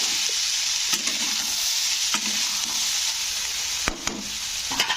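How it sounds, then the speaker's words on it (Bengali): Long beans (barbati) fry in a pan over low heat with a steady, close sizzle, broken by several sharp scraping knocks as they are stirred. No one speaks. "ওভেনটা স্লো রেখেই আমি বরবটিটাকে একটু ভেজে নিলাম তো দেখো এখানে বরবটিটা ভাজা ভাজা হয়ে এসছে"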